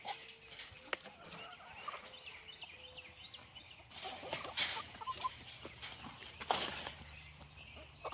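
Chickens cluck softly in a backyard coop among scattered rustling and a few sharp knocks, with occasional louder bursts from the hens, during a drought.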